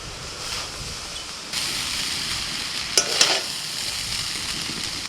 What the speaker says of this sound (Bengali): এইভাবে আস্তে আস্তে সাবধানে নাড়বেন, তাহলে ভাতগুলো ভাঙবে না।